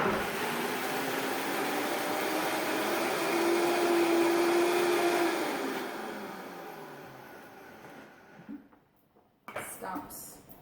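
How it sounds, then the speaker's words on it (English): Countertop blender whirring through vegan mozzarella mac and cheese sauce, a steady motor hum with a rising tone that winds down and stops near the end, followed by brief clatter and a voice. "We're just going to go ahead and blend."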